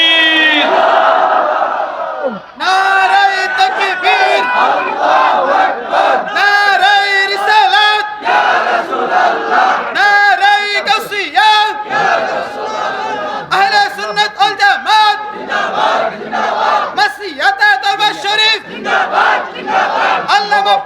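Crowd at a Bangla Islamic sermon roars back in unison, chanting in repeated loud bursts separated by short gaps, with voices overlapping and the preacher's calls between the responses.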